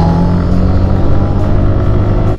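A 2023 Kawasaki Z900 motorcycle engine runs loud and close, holding a steady, rich rumble with mild revving throughout.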